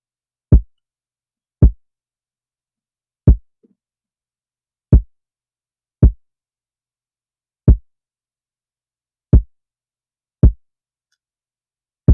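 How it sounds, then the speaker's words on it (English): Nine deep, punchy kick drum sample hits from an FL Studio trap beat, struck alone at a steady, slightly uneven pace with silence between each thump. "Okay, his next sound is a kick,"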